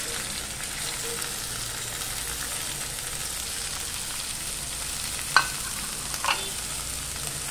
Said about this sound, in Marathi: आता आपली फोडणी छान परतून झालेली आहे. आता आपण त्यात बटाटे टाकून घेऊया.